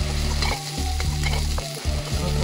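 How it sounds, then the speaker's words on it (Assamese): Masala fries in a pan for a snail curry, a loud, dense sizzle punctuated by rhythmic stirring strokes about twice a second, with a low steady hum underneath. "মছলাটো দি অকণমান ভাজি ল'লোঁ"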